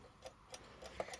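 Loud, steady ticking from a Badische striking alarm clock in a resonating metal case, each tick a sharp, close click in an even rhythm with nothing else heard.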